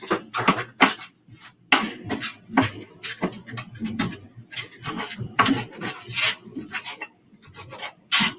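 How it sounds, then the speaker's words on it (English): A kitchen knife chopping a bunched-up ball of fresh cilantro on a board, with rapid irregular crisp cuts and scraping strokes, close and steady throughout. "The cilantro, you can just ball it up in one big thing and just start chopping away"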